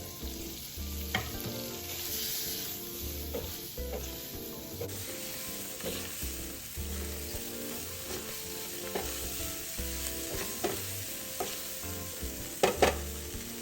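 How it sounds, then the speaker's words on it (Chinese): Pan-fried firm tofu being tossed in a hot wok with spices, giving a steady close sizzle broken by repeated scraping and clacking strokes of the spatula, with no voices. "再加入煎香的豆干，翻炒20秒，让香料味包裹表面"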